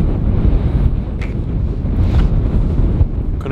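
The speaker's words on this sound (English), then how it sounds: "It's still pretty windy" Strong wind outdoors in Alaska buffets the microphone with a steady, loud rushing roar and low rumble, rising and falling slightly throughout, with no voices.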